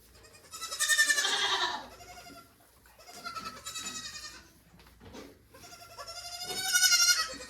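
A young goat kid bleats loudly and repeatedly during handling for socialization, with several drawn-out, wavering cries close by and quieter pauses between them.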